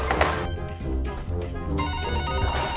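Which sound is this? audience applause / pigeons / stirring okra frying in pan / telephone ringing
telephone ringing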